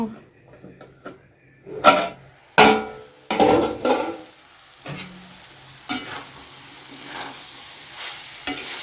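A pot of ground coconut curry with pumpkin, simmering on low heat, is uncovered and stirred, giving scraping and clattering knocks over a faint bubbling sizzle, while someone talks.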